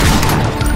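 Dense burst of rapid gunfire from the zombie survival video game Yet Another Zombie Survivors, loud and continuous through a brief moment, no voices.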